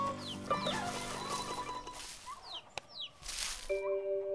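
Hens clucking in a farm henhouse, several close, chattering clucks and squawks overlapping, with a sharp knock and a sustained tonal musical note near the end.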